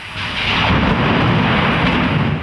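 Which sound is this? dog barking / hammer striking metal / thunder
thunder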